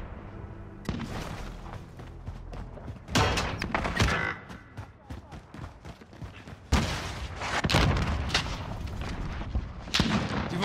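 Incoming artillery rounds explode in Call of Duty: Modern Warfare, several heavy booming blasts at irregular intervals, each a loud broadband burst that rumbles and decays into ongoing battlefield noise.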